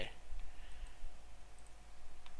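A computer mouse clicks faintly a few times while being used for circuit design software, close but quiet over a steady low hum.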